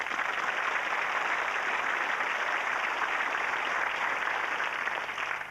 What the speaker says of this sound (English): Deserved applause too.